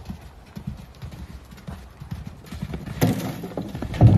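Horse hooves clip-clopping in an equestrian jumping setting, a quick run of muffled hoofbeats at moderate distance that grows louder and busier toward the end, with a burst of heavier thuds near the close.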